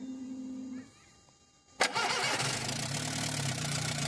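A Volkswagen Gol with a rebuilt fuel-injected engine cranks briefly and catches, then runs at a steady idle nearby after a quieter hum and pause.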